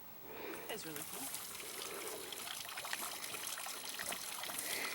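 A thin trickle of water runs steadily in a high-desert canyon, a soft continuous hiss close by, with a brief voice near the start.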